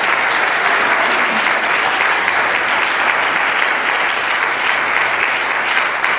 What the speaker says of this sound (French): On peut acclamer pour Papa Boni.